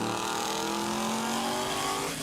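Cars lined up for a race, engines droning loudly and continuously up close, with a rising rev toward the end and no talking.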